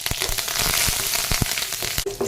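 Shallots, green chilies and curry leaves fry in hot oil with a loud, steady crackling sizzle, punctuated by sharper pops and spatters.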